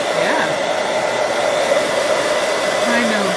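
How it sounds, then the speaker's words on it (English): A hair dryer blows loudly and continuously at close range, used to warm frozen berries stuck together. The airflow roar stays steady throughout with a faint whine in the background. "Get the hair dryer."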